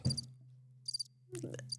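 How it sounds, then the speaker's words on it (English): Crickets chirp outside in short, faint high trilling bursts separated by pauses, against a low steady hum with brief voice sounds. "Crickets out there."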